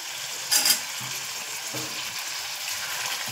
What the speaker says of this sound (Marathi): आता आपण इथे टाकूया लसूण ठेचून घेतलाय 4-5 पाकळ्या, ते पण तेलावर परतून